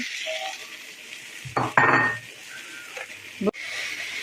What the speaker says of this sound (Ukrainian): До обсмаженої цибулі додаю 300 грам курячого фаршу